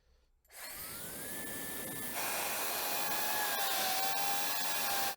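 Gamma IQ hair dryer blowing a steady, loud rush of air, starting abruptly and jumping up a notch partway through, with a thin whine running under the broadband roar.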